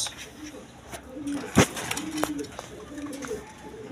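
Large pigeons offered for sale coo softly in low, rolling calls repeated at intervals nearby, with a sharp knock partway through and someone talking over them.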